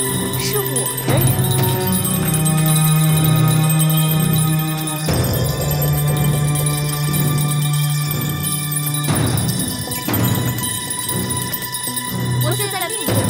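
A bell rings, used as a mind-controlling signal in a Chinese martial-arts drama, with sustained shimmering tones that swell and fade several times over dramatic music and raised voices.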